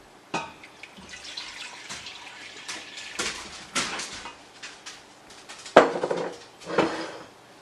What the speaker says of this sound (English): I got a little over half a gallon of milk here. So I'm going to pour it in my saucepan